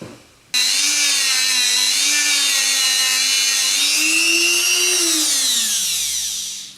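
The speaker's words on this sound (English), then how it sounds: "I finished it off with this Dremel." A Dremel rotary tool fitted with a woolen pad polishes the frets of a Roscelli Cavalier Rhythm King guitar, giving a steady, loud, close high-pitched whine that shifts slightly in pitch as it runs, then winds down at the end.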